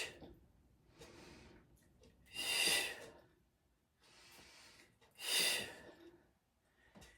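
Heavy exhalations push out during an overhead weight exercise, two strong breathy rushes a few seconds apart, each followed by softer, quieter breaths, close to the microphone.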